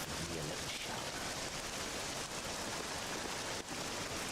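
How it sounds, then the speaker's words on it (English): Rain falling in the video game Dragon Quest 7 Reimagined, a dense, even hiss of steady downpour with a faint voice briefly underneath at the start. "This accursed rain will chill ye to the bone."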